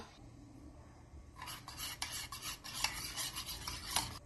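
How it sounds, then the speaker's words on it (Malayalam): Spoon stirring whisked yogurt with salt in a bowl, quiet at first, then a run of close, uneven scraping and rubbing strokes against the bowl. "ഇതിലേക്ക് ആവശ്യത്തിന് ഉപ്പ് ചേർത്ത് ഇളക്കി കൊടുക്കാം."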